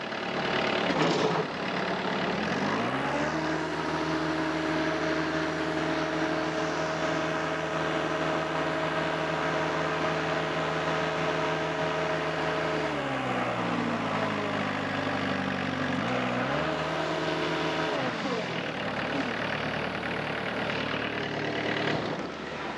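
A Harper Turf ATM72LC slope mower's engine starts and runs steadily with the hydraulic mower deck engaged, a loud continuous droning hum whose pitch drops and shifts briefly near the end before settling again.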